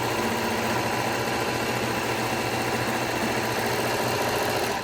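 An overlocker trimming a fabric edge runs continuously with a dense, steady motor whir and rapid stitching chatter, close by and unbroken throughout.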